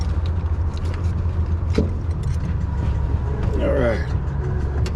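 Corvette C2 split window with an LS7 engine and air ride, driving with a steady low engine and road rumble throughout, a brief clunk midway, and a short spoken phrase over it.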